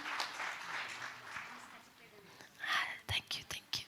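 A soft voice talks through a conference hall at a Dignified Menstruation Day learning event, then a short scattering of audience claps breaks out near the end, a few sharp hand claps in quick succession.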